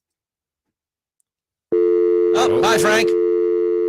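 A steady telephone dial tone hums on a radio call-in line, starting abruptly and holding loud and unbroken while a voice briefly speaks over it.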